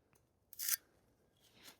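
Scissors snip through a traced paper template, one crisp cutting burst followed by a softer second snip, close and fairly quiet with no talking.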